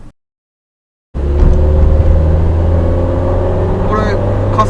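A customized Toyota Hiace van accelerates after a brief silence, its engine rising into a loud, steady drone heard from inside the cabin, with occasional faint voices underneath.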